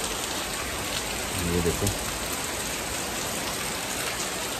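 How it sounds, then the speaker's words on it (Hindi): Steady morning rain pours down in a Himachali hill setting, a dense even hiss that fills the whole clip, with a voice speaking briefly near the middle. "सवेरे के बज रहे हैं 7 और बारिश आ गई है सवेरे सवेरे"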